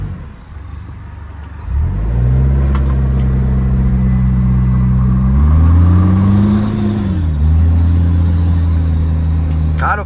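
A Mitsubishi Triton pickup on 315 tires pulls away up a steep incline from a standstill, its engine rising to a loud, steady rev and then shifting pitch. The engine drone is close and runs continuously from the start.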